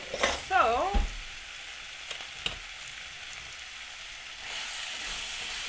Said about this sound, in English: just these onions caramelizing smell so good in here